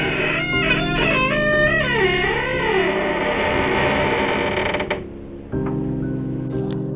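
A door creaks open in a long, drawn-out wavering groan that bends up and down in pitch, then stops abruptly, leaving a quieter low hum.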